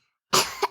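A young child coughs in an audio story, a short burst of coughing out of silence with a quick second cough at the end, close and fairly loud.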